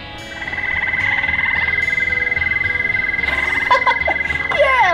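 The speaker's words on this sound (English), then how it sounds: "Yeah, that's the toad." Recorded toad call played by push button at a science museum exhibit: a loud, steady, sustained trill close by, with a few brief sounds near the end.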